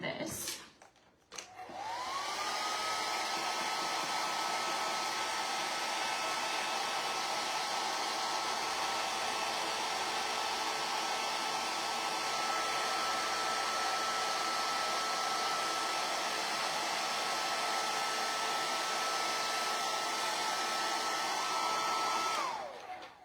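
A hair dryer blows steadily over icing on freshly decorated donuts, switching on with a rising whine, then holding a loud, even roar for about twenty seconds before cutting off.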